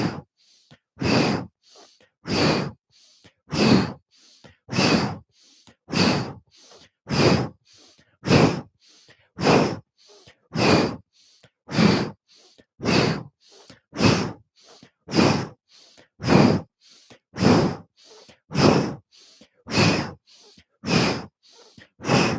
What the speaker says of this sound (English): as you rotate to the left, you exhale through the mouth with an O shape